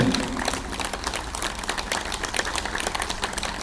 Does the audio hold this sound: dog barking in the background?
no